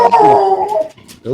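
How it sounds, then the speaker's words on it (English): A dog howls loudly and close by in a drawn-out, wavering tone lasting under a second, followed by a short whimpering yip, with a voice briefly heard. "That's my dog."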